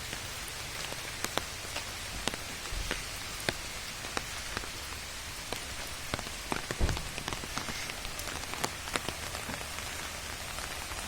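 Heavy rain pours steadily outside the Bipattarini temple in Rajpur, a dense continuous hiss with scattered sharper drops and drips striking nearby surfaces throughout, no voices.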